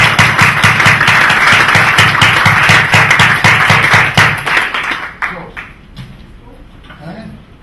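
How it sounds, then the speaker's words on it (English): Loud, sustained applause from a conference audience, dense clapping that fades out after a few seconds, leaving scattered claps and murmuring. "I ask you for a second big applause for you"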